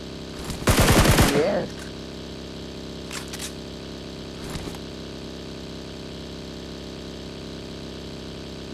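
A single rapid burst of automatic gunfire rings out in the mobile battle royale game BGMI, loud and close near the start, followed by a few faint brief shots and near quiet.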